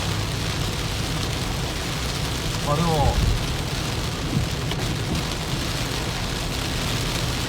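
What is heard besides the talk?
heavy rain during a typhoon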